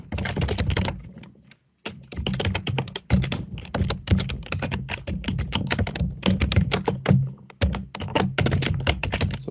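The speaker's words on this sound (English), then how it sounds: "I'm typing in my old password." Password being typed on a computer keyboard: steady, close, rapid key taps in dense bursts with a brief pause near two seconds and another short gap near eight seconds, no voices.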